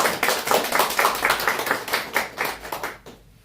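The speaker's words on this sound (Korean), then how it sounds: "여러분 박수 한번 주시죠." Audience applause at a seminar forum as an accountant is welcomed to the front: a burst of hand clapping in a steady, fairly dense patter, fairly near, that tapers and fades in the final half second.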